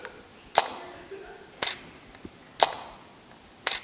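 A camera shutter clicks four times at roughly one-second intervals, each a sharp, close snap with a short tail, set against a quiet room during a fashion photography basics class.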